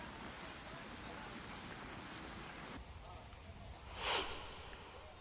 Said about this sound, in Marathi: पावसाचा जोर अजून कायम आहे